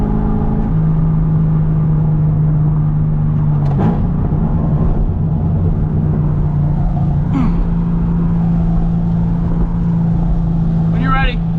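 Chevrolet Corvette C5 Z06 engine accelerating, a loud steady drone with a sustained low tone that holds, dips briefly and resumes, dominating throughout.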